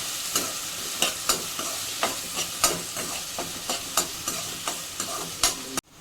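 Onion and tomato for paneer bhurji fry in a pan with a steady sizzle, punctuated by a regular rhythm of spatula scrapes and stirs, close and fairly loud, ending with a sharp knock.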